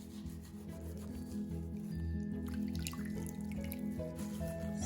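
Wet wool felt being rubbed around a bar of soap makes a steady, close, soft scrubbing and squishing texture that continues without pause.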